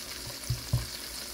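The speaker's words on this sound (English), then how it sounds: "We got it sizzling real good now." A thick piece of catfish sizzles in a frying pan, a soft constant fry hiss with two brief low thumps as it shifts, close and quiet, no talk.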